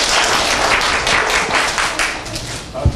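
Children and adults clap together in a classroom during report-card day in Siirt, a brisk, loud round of applause that fades slightly toward the end.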